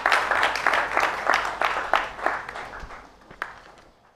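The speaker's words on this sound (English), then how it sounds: "a round of applause" Church congregation applauding, a burst of clapping that starts full and fades away over a few seconds, ending in scattered last claps.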